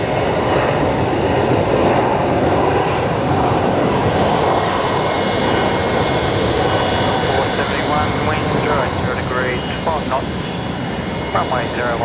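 A fixed-wing airliner landing at Brisbane Airport gives a steady, loud, broadband engine roar throughout. Faint chirping sounds appear toward the end.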